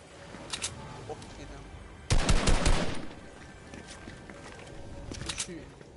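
A short burst of rapid automatic gunfire in the video game Fortnite, loud and dense for under a second, with scattered distant shots and game noise before and after, and a voice talking in the background.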